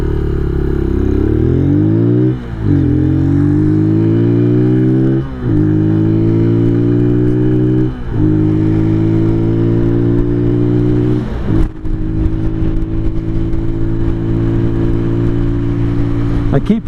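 A 2023 Venom SS3 KP mini 150 motorcycle revs and accelerates up through the gears, its engine note climbing steadily with brief dips at each shift, loud and close throughout.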